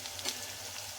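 Green chillies sizzle in hot oil in a pan, being stirred lightly while cooking a koi fish bhuna, a steady close crackle with a couple of soft scraping stirs.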